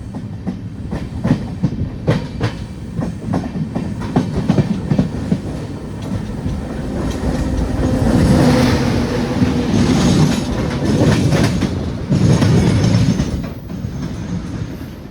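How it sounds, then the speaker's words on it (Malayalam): LHB-coached Palaruvi Express train rolling into Thrissur station, steady clickety-clack of wheels over rail joints and rumbling coaches, swelling louder mid-way with some wheel squeal, continuous and close. "10 മിനിറ്റ് ലേറ്റ് ആയിട്ട് നമ്മൾ വന്ന് കയറിക്കൊണ്ടിരിക്കുകയാണ് തൃശ്ശൂർ സ്റ്റേഷനിൽ"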